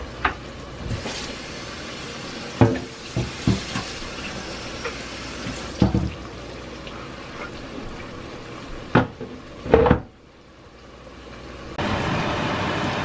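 Onions frying in oil alongside chicken wings in a pan, a steady broadband sizzle with scattered clattering bumps and knocks of utensils, a louder clank near the end before the frying hiss continues alone.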